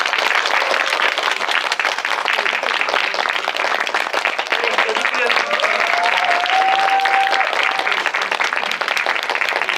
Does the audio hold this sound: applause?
yes